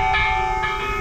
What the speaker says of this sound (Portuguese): tocar o sino.